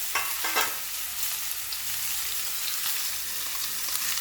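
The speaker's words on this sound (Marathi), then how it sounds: "आणि थोडासा हिंग घालायचा आहे आणि त्यानंतर हा भोपळा चिरलेला टाकून द्यायचा आहे" Chopped pumpkin hits hot oil with mustard seeds, cumin and asafoetida, giving a steady loud sizzle with a few stirring scrapes near the start.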